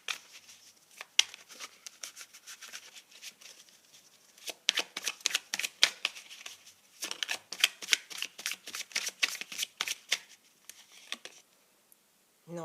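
Tarot cards being shuffled during a fortune-telling reading, a close, crisp run of rapid riffling flutters with short pauses between bursts and no voices over them.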